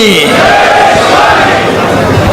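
A large, loud crowd at a political rally in Satara roars and chants together in a sustained, close wall of voices, with an amplified speaker's voice mixed in.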